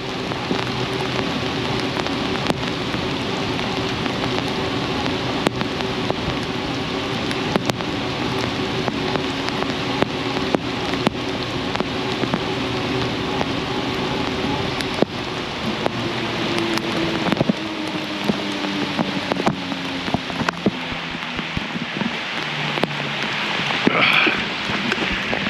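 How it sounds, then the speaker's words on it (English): Steady rain falls on a greenway trail in August, a continuous close hiss of drops on the surface and foliage, holding level throughout with no talking. "It's raining!"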